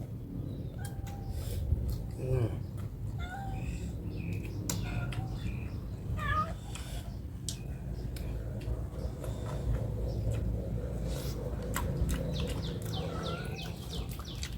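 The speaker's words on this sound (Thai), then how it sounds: "มาอีกแล้วแมว" A cat meows repeatedly in short, upturned calls among chirping birds and outdoor background noise, fairly faint, with occasional voices nearby.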